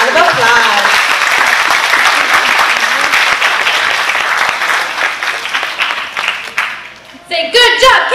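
A school assembly audience gives loud, sustained applause for a Confidence Award recipient, dense clapping filling the room before trailing off, with children's voices breaking in at the end.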